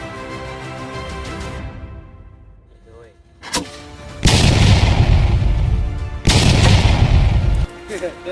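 Two loud, booming blasts of a bamboo cannon a couple of seconds apart, each with a sharp onset and a long rumbling tail, preceded by quieter background noise.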